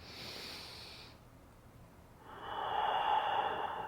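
Slow, audible breathing during a gentle yoga side bend done in bed: a long airy exhale, a brief pause, then a stronger, louder breath close to the mic, with no talking.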